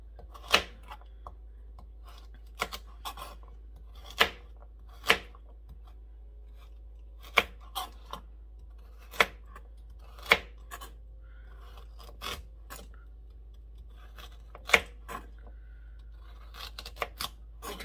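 Sharp knife strikes chopping peeled carrots on a cutting board, spaced irregularly with pauses between cuts, close and crisp against a quiet background hum.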